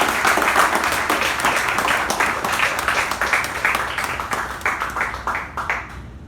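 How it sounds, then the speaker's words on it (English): Audience applause at a Toastmasters installation ceremony meeting, a steady burst of many hands clapping that thins out and fades toward the end. "So let's go ahead, give a nice round of applause to Toastmaster Sharanya."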